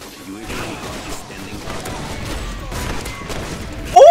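DSR sniper rifle fire in Modern Warfare 2 multiplayer, with sharp shots and distant gunfire amid game ambience, and a louder crack right at the end; a player talks over it.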